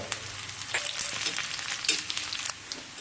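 Mustard seeds, fenugreek, sliced shallots and dried red chillies tempering in hot coconut oil in a pan, a steady close crackling sizzle with scattered pops, no voices.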